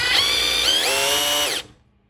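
A cordless drill spins a small pump attachment moving water, a steady high whine with a shifting pitch partway through that runs about a second and a half, then cuts off and fades.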